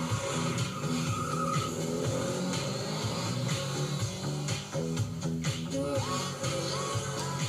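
A car chase in a fan film based on The Judge: engines roar, tires squeal and skid repeatedly, and the noise stays loud and dense the whole time under a busy soundtrack.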